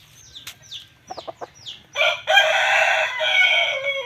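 Chickens cluck in a few short, separate calls, and then a loud rooster crows in one long, sustained cry. The birds sound close, and a low hum runs underneath.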